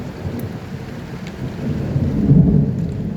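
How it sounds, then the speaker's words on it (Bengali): Heavy rain pours steadily in a garden in Saudi Arabia, a dense low roar that swells slightly louder toward the end, with no voices over it. "আজকে অনেক বৃষ্টি হইতেছে।"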